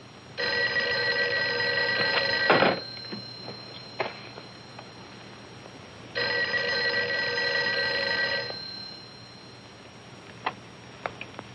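Two long bursts of a telephone bell ringing, each about two seconds, loud and close in a quiet room, with faint clicks between rings.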